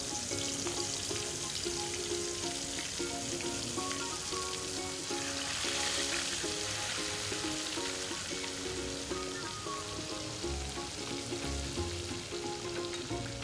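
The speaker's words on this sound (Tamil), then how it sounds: "இனி அடுத்து ஒரு ரெண்டு மீனை ஃப்ரை பண்ணி எடுப்போம்" Fish frying steadily in hot oil for a home-cooked Kanyakumari-style fish fry, a dense continuous sizzle and crackle with no talking, holding an even level throughout.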